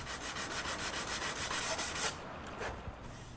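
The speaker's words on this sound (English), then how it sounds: "I'll slowly plane and sand this newly repaired section until it fits the profile of the rest of the side." Sandpaper rubbing over a newly repaired softwood section on the side of an antique table, a steady close scratchy stroking for about two seconds, then stopping, followed by a few lighter scuffs.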